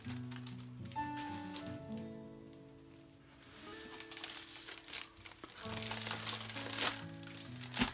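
Close crinkling of plastic wrap as a Diamond Art Club diamond painting kit is unboxed, soft irregular rustles and crackles that grow busier toward the end, beneath quiet background music.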